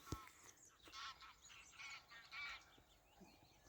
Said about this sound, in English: A few geese flying over.